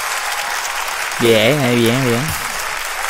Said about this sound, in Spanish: La gente te aplaude. Vamos a aplaudir.